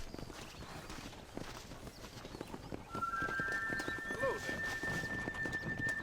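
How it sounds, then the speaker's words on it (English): A war horse in the video game Red Dead Redemption clops along in a steady walking rhythm of hooves, then lets out a clear, drawn-out neigh partway through, with faint game ambience underneath. "He's like a war horse."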